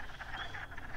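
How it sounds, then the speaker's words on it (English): A male wood frog croaks in a vernal pool setting, a quick burst of soft, clucking calls that run together over a faint background. "that's a male wood frog in my hand."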